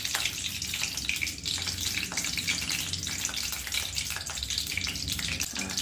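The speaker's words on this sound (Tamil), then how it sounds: "விளக்கெண்ணெய் ஊற்றிக்கலாம்." Castor oil is poured during preparation of a pre-dye hair oil, making a steady, close, liquid trickling and splashing sound that runs without pause and has no voices over it.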